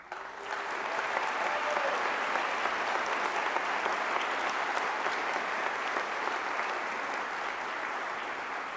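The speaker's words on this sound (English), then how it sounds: "Students, as your name is read, please stand and accept our applause" Sustained applause from a large audience at a college of creative arts commencement ceremony, a steady, even wash of clapping that begins abruptly and holds for nearly nine seconds.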